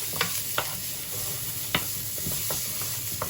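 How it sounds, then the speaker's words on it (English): Onions and garlic sweat in a pan under a steady low sizzle, broken by a few sharp scrapes and clacks as they are moved around; close and moderately loud, no voices. "There's nothing better than the smell of sweating down onions and garlic"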